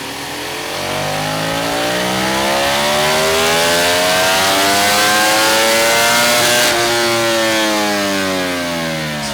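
A 2025 Ducati Panigale V4S superbike, a Euro5+ model, revs hard on a dyno. The engine note climbs steadily through a long sustained pull with rising harmonics and stays loud and continuous from start to finish, with no talking.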